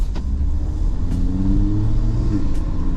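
Inside an Audi RS Q3, the engine hums in a steady, loud cabin drone while the car accelerates, with faint rising engine tones beneath a constant low road rumble.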